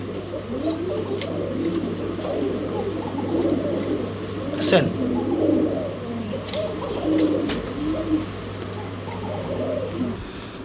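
Coca pigeons, a domestic pigeon breed kept for sale, give soft repeated cooing calls at moderate distance, with a voice talking over them and a steady low hum underneath.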